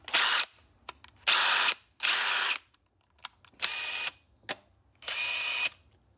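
DeWALT 887 brushless impact driver running in five loud, close bursts of about half a second each, separated by short silences and small clicks, with no talk.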